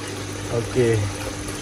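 Water being pumped and falling through an outdoor fish tank filter with a bottom-type setup, a steady low gurgling wash with a brief louder surge in the middle, a voice speaking over it.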